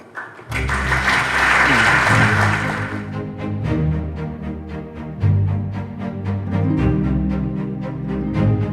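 Audience applause at the 2018 Caesarstone Student Designer Competition ceremony, a loud burst that starts abruptly, then thins and gives way to a steady sustained tone with music-like harmonics through the rest.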